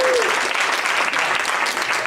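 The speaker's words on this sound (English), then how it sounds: "let's give ourselves a round of applause" A group applauds itself with brisk, sustained clapping from many hands in a room. A brief voice or tone sounds at the start.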